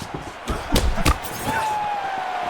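In a UFC video game bout featuring Charles Oliveira, a fighter is slammed to the mat with a few thudding impacts amid faint crowd noise, followed by a thin rising whistle-like tone.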